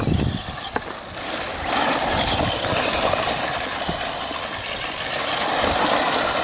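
A Traxxas Slash 4x4 RC car running on a 3S LiPo whines along at low throttle, a close mechanical buzz and gear rattle with a few clicks and rising and falling rumble.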